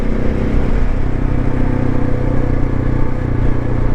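A motorcycle rumbles along a road, its engine droning loud and close under steady wind and road noise, with no voices.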